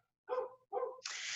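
Dogs bark twice in quick succession nearby, two sharp separate woofs, followed by a brief hiss of noise, heard during a quiet indoor talk.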